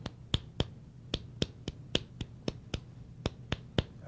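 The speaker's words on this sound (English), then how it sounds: "or you can clap it like" Sharp hand claps beating out a guitar strumming rhythm, about a dozen crisp, close hits in an uneven syncopated pattern, alone with no talk.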